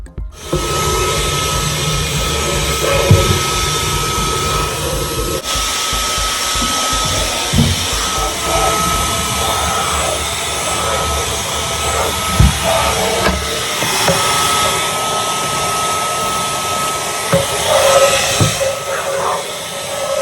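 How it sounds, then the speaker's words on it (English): A vacuum cleaner sucks crumbs out of a kitchen food cupboard, a steady close whooshing hiss with a thin whine and occasional knocks and rattles from the nozzle against the shelves. "I might actually get the vacuum cleaner and suck out all these bits"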